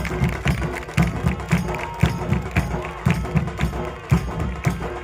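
An audience claps and cheers loudly and steadily throughout a palanquin dance competition held for Shiv Jayanti, with crowd noise and dense rhythmic clapping.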